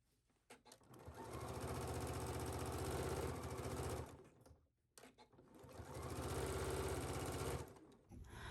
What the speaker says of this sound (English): And we're going to stitch this down at 5/8.